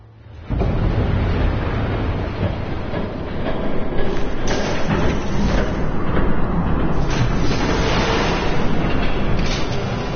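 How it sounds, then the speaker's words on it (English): In a Batman video game, a train rolls past with a loud, continuous rumbling roar and rattling wheels that builds and holds for several seconds, with no talk over it. "There's a train coming. Take cover."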